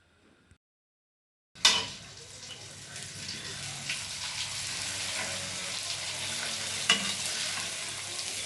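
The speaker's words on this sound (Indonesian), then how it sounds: "ini dia opak yang sudah kita goreng" Thin cassava opak crackers drop into hot oil and break into a loud sizzle after a moment of silence. The bubbling frying stays steady and close, with a few stirring clinks.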